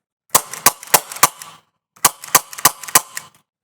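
Rapid sharp pops from a CO2-powered Rekt Nerf pistol come in two quick bursts of about five shots each, separated by a brief pause, close and crisp with near silence between them.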